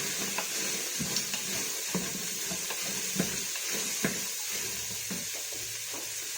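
Aromatics sautéing in a hot Instant Pot, a soft steady sizzle with scattered light ticks and stirring taps, fairly quiet and without talk.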